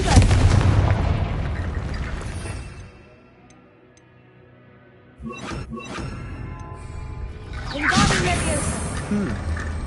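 A Confringo blasting spell in Hogwarts Legacy bursts against a barricade with a sharp broadband crack, after a quiet lull and a loud layered explosion that trails off into rumbling debris and game ambience.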